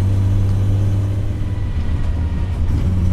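Idling 1483 hp VW Golf 2 race car engine, a deep steady low rumble with a lumpy, slightly uneven beat, close and loud throughout.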